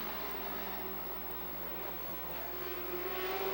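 NASCAR Pro Stock race cars racing at Lee, New Hampshire, a steady distant roar of engines droning on, with a faint rising whine near the end and no voices.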